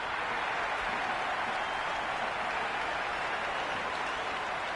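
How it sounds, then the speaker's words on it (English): A video game cricket crowd in Cricket 26 roars during a simulated T20 World Cup match between West Indies and New Zealand, a dense, steady wash of cheering and applause with no break throughout. "Will you listen to that crowd? They are loving this."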